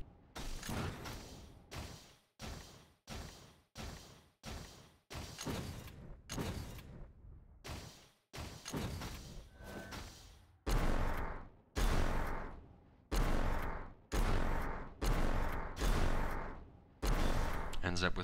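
Rocket launches in the movement game Reflex, a steady series of about twenty punchy blasts with whooshing tails, fired rhythmically one after another, loud and close, with talk faintly underneath.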